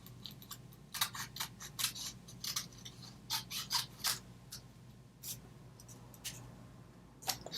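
Scissors snipping a thin paper strip for a Valentine's gift tag, a series of close, crisp irregular cuts with short pauses between them, with no one talking.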